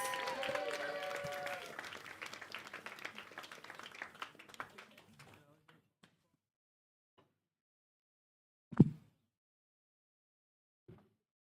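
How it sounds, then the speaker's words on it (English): Audience applause at the Hot Water Comedy Club as a comedian is introduced, a full burst of clapping that thins and fades over about five seconds into quiet, broken by a couple of isolated thumps. "Keep that applause going for your next act,"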